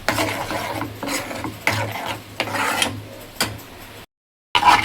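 Egg bhurji being stirred and mixed in a pan, with repeated scraping and rubbing strokes of a spatula in irregular bursts, close and fairly loud, then a short gap and a final scrape.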